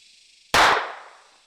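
A toy pen-pistol fires a single loud, sharp crack that decays quickly, over a faint steady high whine.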